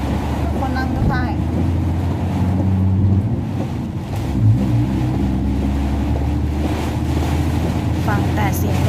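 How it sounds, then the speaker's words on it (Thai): Strong wind and heavy rain roar around a car climbing a steep mountain stretch of Mittraphap Highway near Muak Lek, a dense, continuous rushing wash that holds steady throughout. "ฟังแต่เสียงลมนะคะ"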